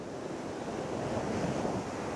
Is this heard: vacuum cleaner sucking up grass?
no